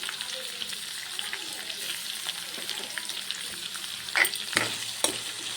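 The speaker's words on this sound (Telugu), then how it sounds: "ఇవి కూడా వేసుకొని కొంచెం ఫ్రై చేసుకుందాం." Semiya (vermicelli) upma frying in a pan with salt added, a steady soft sizzle running throughout, broken by a few louder scrapes and clacks of stirring near the end; no voices.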